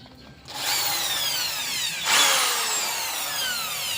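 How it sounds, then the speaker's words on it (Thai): Power drill readied for fitting a strap button on an electro-acoustic guitar, whirring loudly for two bursts, the motor pitch falling as each run slows, with no talking. "โอเคสว่านพร้อมนะครับ"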